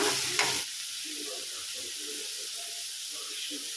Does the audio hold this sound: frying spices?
yes